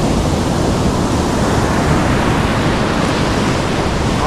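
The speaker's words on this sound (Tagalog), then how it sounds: "Ang alon ngayon, kakaiba na ang alon ngayon" Loud, continuous roar of large ocean waves crashing close to a boat, a dense wash of water noise with no pauses or voices.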